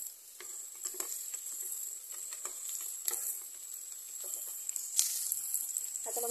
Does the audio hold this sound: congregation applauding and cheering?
no